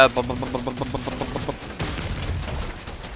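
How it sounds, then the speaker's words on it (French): Grenade blasts in the bug-fighting dwarf game Deep Rock Survivor: a rapid run of evenly spaced pops gives way to a rumbling burst of explosions, loud and dense against the game's background sound. "tu peux ne pas bouger et la grenade fait le taf"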